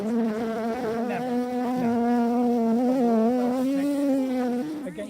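Honeybees buzz at their hive, a steady close drone with wavering pitch that holds for several seconds before tapering at the end.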